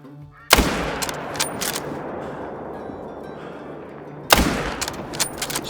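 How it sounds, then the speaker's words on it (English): Two loud, sharp rifle shots from the Olsen Model 23308 in the hunting game Call of the Wild, each cracking out over a quiet outdoor background and trailing off in a long echoing rumble, spaced a few seconds apart. "we are going to shoot it with the Olsen Model 23308 that comes in the Hunter Power Pack"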